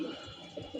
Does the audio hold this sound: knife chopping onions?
no